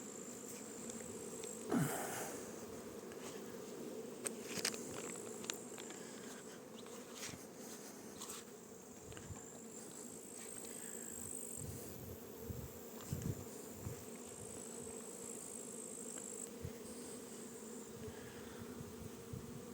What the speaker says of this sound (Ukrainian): сьогодні велика кількість бджоли вийшла на обліт